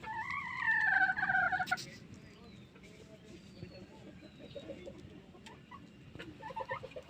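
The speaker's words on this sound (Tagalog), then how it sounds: "Gandang manok niyan." A Masbate rooster with long tail feathers and yellow feet gives a short, bright call at the start, followed by softer clucking. Voices talk quietly in the background.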